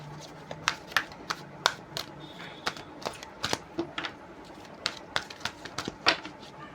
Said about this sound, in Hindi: एनर्जी से कुछ कार्ड लेती हूँ, फिर आपको बताती हूँ।